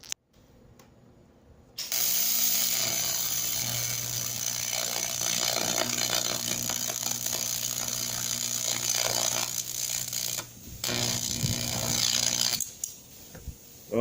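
A TIG welding arc tacks aluminum, starting abruptly and then holding a steady crackling buzz for about ten seconds. It dips briefly partway through, returns, and then cuts off.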